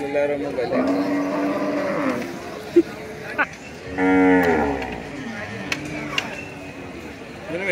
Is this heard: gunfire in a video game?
no